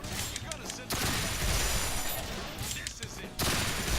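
Dense bursts of rapid gunfire in the video game Resonance of Fate, loud volleys separated by short gaps, with voices talking underneath.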